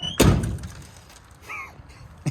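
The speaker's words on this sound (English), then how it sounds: "every time I close this door, glass falls out." The door of an old Toyota Corolla TE51, parked for 31 years, is shut with a single loud thunk. A faint rattle follows, then a short higher squeak and a small knock at the end.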